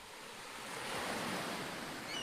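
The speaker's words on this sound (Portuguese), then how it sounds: "O barulho das ondas." Ocean surf washing onto a deserted beach at night, a steady broadband rush of waves that swells louder midway and holds, with a light breeze and no voices.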